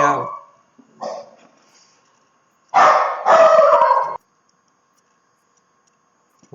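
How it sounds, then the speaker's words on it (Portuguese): A small dog barks in short bursts nearby during a math lesson, a few sharp yaps separated by pauses, heard alone without talk. "um pequeno latido de cachorro aqui, desculpa"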